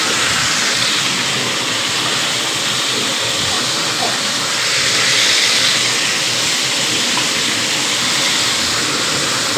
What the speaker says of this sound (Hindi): बाकी हम इसमें कढ़ाई फ्राई कर लेते हैं।